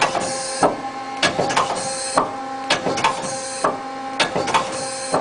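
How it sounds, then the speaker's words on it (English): A Mazak Quick Turn 20 CNC turning center runs nearby, producing a repeating mechanical cycle of sharp clunks and bursts roughly every half second over a steady whirring hum with tonal whine. "Right now I'm recording the Mazak Quick Turn N20 Universal CNC Turning Center."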